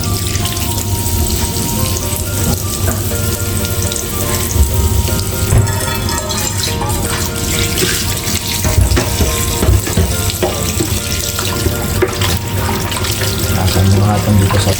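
Tap water runs steadily into a sink while about two kilograms of fish are rinsed for homemade dried fish, a continuous splashing hiss with brief clatters and no talk.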